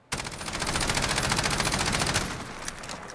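Rapid automatic fire from a CTAR-21 SBR in Call of Duty Modern Warfare, a loud, tightly spaced burst lasting about two seconds before cutting off with a brief trailing shot.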